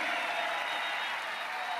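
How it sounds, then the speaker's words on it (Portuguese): Crowd at a peaceful street demonstration in Copacabana, Rio de Janeiro, applauding steadily as a dense, continuous wash of clapping and crowd noise filling the whole moment. "E eu peço para ele uma salva de palmas pela luta da liberdade do nosso país."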